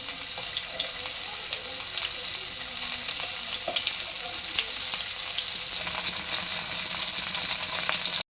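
Chicken seekh kababs fry in a pan with a steady, close sizzle that carries evenly from start to finish, with faint clinks and kitchen noises mixed in.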